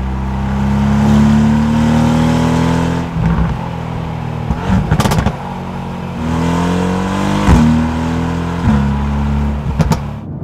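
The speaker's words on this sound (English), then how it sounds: "thunderous V8 kind of background soundtrack to it, overlaid with this noisy popping and banging exhaust" The V8 engine of a 2018 Mercedes-AMG GT R revs deep and throaty, pulling through the gears, loud and close, with sharp crackling pops and bangs from the exhaust between shifts.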